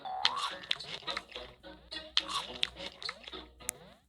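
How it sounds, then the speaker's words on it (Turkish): Game character in PK XD noisily eating, a run of wet crunching, chomping and smacking bites in an uneven rhythm, close and fairly loud, with no talk over it. "Haçırt haçırt diye yiyor. Ağzını şapırdata şapırdata."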